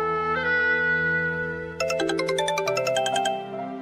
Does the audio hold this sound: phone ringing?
yes